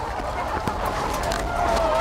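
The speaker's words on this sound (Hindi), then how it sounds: "मुर्गियों की आवाजें आ रही है यार" Faint chicken clucking with a rooster-like call in the background at a poultry farm, under a steady ambient hum; no clear speech.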